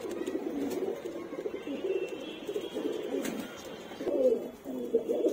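Madrasi pigeons kept in pairs coo in soft, repeated, warbling rounds close by, with a few faint clicks and rustles in the background.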